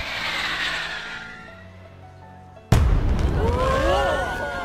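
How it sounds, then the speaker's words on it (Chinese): Fireworks at a summer festival: a quiet stretch, then a sudden loud boom followed by crackling bursts and whistling streaks, with a crowd's voices mixed in. "漫天的烟花开始了绚烂的绽放"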